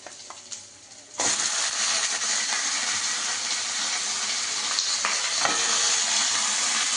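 Loud, steady sizzling of potatoes frying in hot oil begins abruptly and continues throughout, with occasional stirring scrapes.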